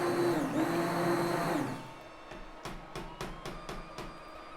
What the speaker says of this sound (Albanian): Pra e bluajmë mirë me blender gjithë ftojt dhe mollat.